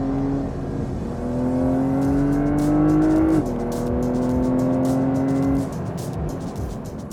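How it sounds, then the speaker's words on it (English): A 2025 Porsche 911 Carrera's optional sports exhaust revs up and down with a deep, droning tone, the pitch rising and dropping as the engine is worked. "This car does have the optional sports exhaust"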